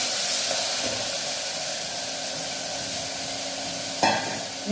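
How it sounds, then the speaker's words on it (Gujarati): Continuous sizzling hiss of mustard and cumin seeds tempering in hot oil for a vegetable dish, fairly close, with a brief clink partway through. "રાઈ જીરું નાખે ને આપણું શાક વઘાર નાખ્યું"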